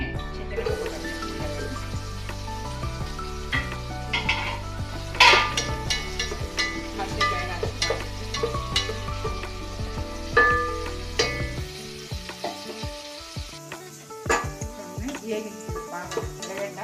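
Onions fry in ghee for mutton biryani, a close, steady sizzle with frequent clinks and scrapes of a stirring spoon against the pan and a low background hum that drops away near the end.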